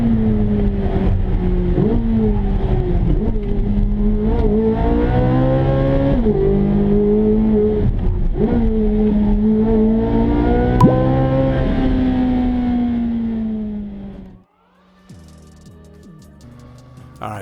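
A Z06 sports car running a lap of the Nürburgring, its engine loud and continuous with rising and falling pitch through gear shifts and acceleration, ending in an abrupt drop to a quieter whine.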